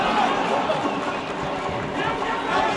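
A steady, dense roar from the crowd fills the arena at a wrestling bout in Krasnodar, holding at an even level throughout while a commentator talks over it.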